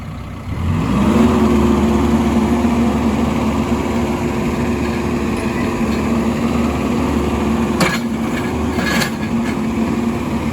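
A Caterpillar 420F backhoe loader engine runs loud and close, rising from idle to a higher steady drone and holding there, with a couple of brief clanks near the end.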